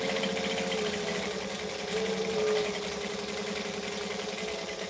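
A sewing machine stitches continuously, a close, steady mechanical whir with a fast rhythmic chatter and a brief rise in speed midway.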